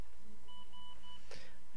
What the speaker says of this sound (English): phone's going off here